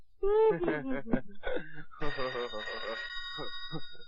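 A telephone bell rings in a steady, bright tone over a voice talking and wailing nearby.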